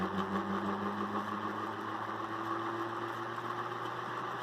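A dual rotor electric motor on a test rig runs at maximum speed, giving a steady, loud mechanical hum with constant tonal whine and vibration throughout, alone without talk.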